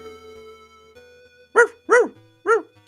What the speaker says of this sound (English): Oh, the dog goes by. We have a dog in here.